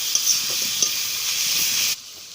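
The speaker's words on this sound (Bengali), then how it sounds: "এখন আমি এগুলো ভালো করে ভেজে নেব।" Egg and potato sizzle steadily as they fry in a pan, with a bright continuous crackle and occasional stirring scrapes, close and fairly loud, stopping abruptly near the end.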